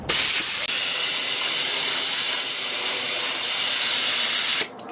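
A spray gun sprays bed liner coating under a Chevrolet Colorado truck cab, a loud continuous hiss that runs steadily for several seconds and then cuts off abruptly.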